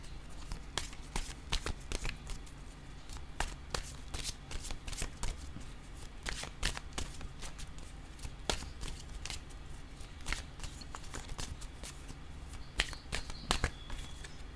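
Oracle cards are shuffled by hand in a quiet room, a continuous close-up riffle of papery flicks and soft slaps that continues steadily throughout.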